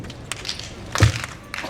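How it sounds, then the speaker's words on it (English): A microphone is struck hard at an outdoor summer comedy show, giving one loud thud with a brief crackle near the middle and a few fainter taps on either side, close and boomy. "I just beat the hell out of the mic."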